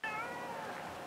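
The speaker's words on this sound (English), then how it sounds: "that's my cat Tuesday" A pet cat gives a single clear meow, close and fairly loud, with a bright wavering tone that fades over about a second in a quiet room.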